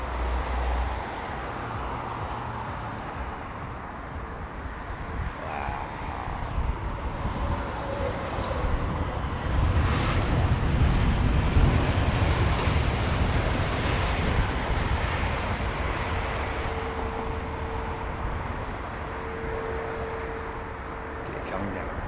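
A British Airways Airbus A380 arriving from LAX approaches to land at Heathrow, a steady broadband jet roar that swells toward the middle and fades slightly, with wind buffeting the microphone and someone talking over it.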